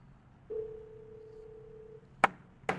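Incoming phone call alert on a Xiaomi Band 8 Pro smartwatch: a steady electronic tone sustained for about a second and a half, followed by two short sharp taps or clicks, heard alone at moderate level.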